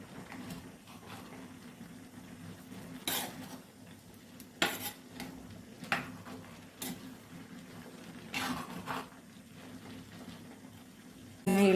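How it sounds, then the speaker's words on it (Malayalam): A spoon scrapes and clinks against a pot while mixing avial, a Kerala mixed vegetable curry, giving sparse, fairly quiet knocks and scrapes over a low background. "അപ്പോൾ ഇനി നമുക്കൊന്ന് ഇളക്കി യോജിപ്പിക്കണം."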